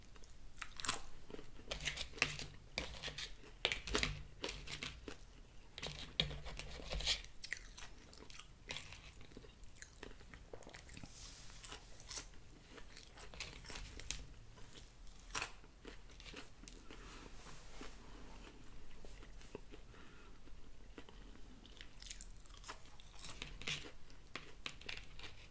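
Close, steady crunching and chewing of Five Guys style French fries, with frequent crisp bites and crinkly tearing running throughout, no talking.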